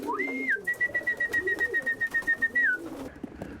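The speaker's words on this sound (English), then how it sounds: "I have a common pigeon. This is the rock dove, so to speak." A common pigeon (rock dove) cooing in a quick series of soft, rhythmic pulses, close by, with a thin sustained whistle-like tone running over them.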